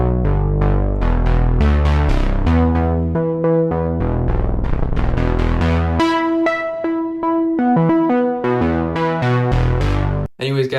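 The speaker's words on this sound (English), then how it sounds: "that's how you make a really analog, lush, and warm synth bass using X for Serum" Warm, lush analog-style synth bass patch built in Serum, playing a sustained melodic MIDI line with rich harmonics for about ten seconds, loud and alone with no talking.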